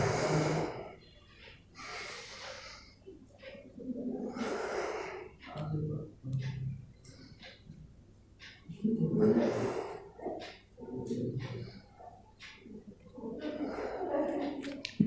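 Yoga breathing during cat-cow pose, slow audible inhales and exhales in alternating rushes of breath, close and fairly soft, separated by quiet pauses.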